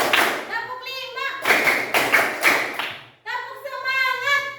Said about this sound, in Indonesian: kita akan tepuk semangat terlebih dahulu. Tepuk 1, tepuk 2, tepuk 3, tepuk 4, tepuk 5